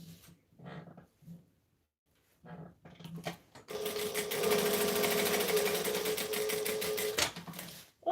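A sewing machine runs steadily for about three and a half seconds, stitching tape down on a fabric wallet. Scattered handling noises come before it, and a low dog growl sits underneath.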